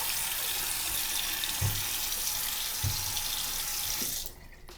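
Tap water runs steadily into a sink as a face is splashed before cleansing with a Sulwhasoo Gentle Foaming Cleanser, with a few soft low splashes from hands, then the flow cuts off abruptly near the end.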